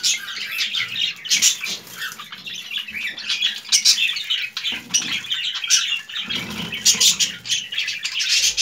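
Budgerigars feeding in their cage flap their wings and squawk nearby, with busy chirps and fluttering bursts layered over each other throughout. No human voice is heard.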